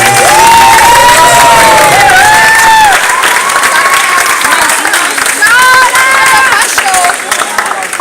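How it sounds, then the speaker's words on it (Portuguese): A crowd at a marriage proposal breaks into loud applause and cheering, dense clapping and excited shouts close by, with voices calling out over it. "Uma salva de palmas."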